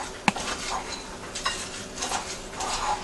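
Nuts for baklava being stirred around a bowl with a spoon, giving soft scraping and light clinking, with one sharp tap early on and quieter rattles after it, with no talking.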